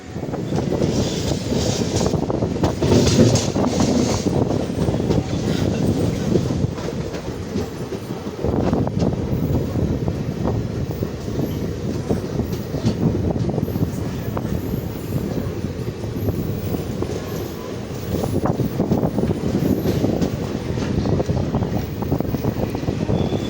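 A train runs at Varkala Sivagiri railway station in Kerala, a loud, continuous rumble with rattling wagon clatter and wind noise, sustained and close throughout with no clear pauses.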